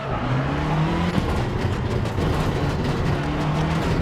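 An in-car rally engine from a driving game, DiRT Rally 2.0 or Richard Burns Rally, drones and revs loudly and close, with shifting pitch as the car accelerates and gravelly road rumble beneath.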